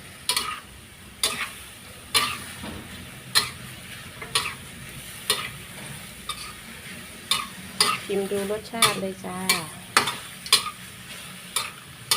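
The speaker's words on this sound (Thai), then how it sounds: "พัดคลุกเข้าให้เขากันจ้ะ" Chicken stir-fried with bell peppers and oyster sauce in a pan, with repeated sharp spatula clacks at a steady rhythm over a constant sizzle and a brief voice partway through.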